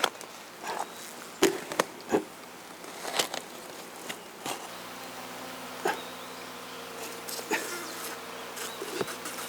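Native Korean honeybees kept by a farmer on Jirisan buzz steadily close by, a continuous drone with bees passing near, joined by scattered knocks and light taps, with no talk.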